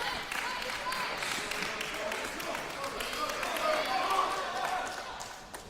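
A crowd cheers and applauds at the NCTTA Nationals 2016 women's singles table tennis final, a lively, moderately distant roar that swells slightly midway, with a commentator talking over it.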